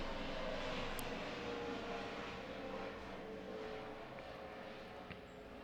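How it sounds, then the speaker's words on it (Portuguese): Airplane passing overhead, a faint, steady broadband engine roar that slowly fades over several seconds, with no talk. "Acabou de passar um avião aqui, então não sei se vai dar para vocês ouvir."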